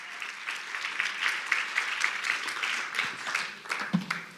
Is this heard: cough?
no